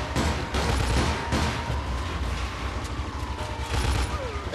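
Rapid bursts of gunfire in Mafia 2, a gangster shootout with loud overlapping shots and booming reports, dense and close throughout, with a voice faintly under the din.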